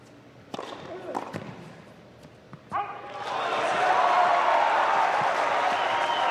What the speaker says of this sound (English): Huge roar from the crowd there.